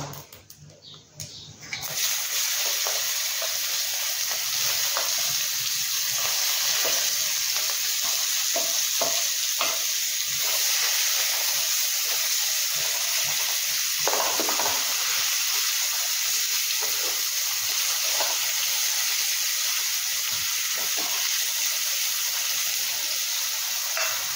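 Half a chopped onion fries with cumin seed tempering in a hot pan, a loud continuous sizzle and hiss with scattered stirring scrapes and clicks, after a brief clatter at the start.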